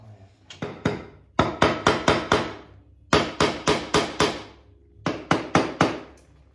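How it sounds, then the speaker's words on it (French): A tile setter's mallet strikes the primary transmission casing of a 1985 1000 Sportster motorcycle in quick clusters of three to six sharp, near, ringing blows separated by short pauses. "C'est un maillet de carreleur pour le carrelage."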